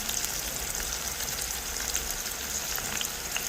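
Chopped tomatoes frying in a pan with onion and garlic, giving a steady, even crackling sizzle with fine pops throughout, close and moderately loud.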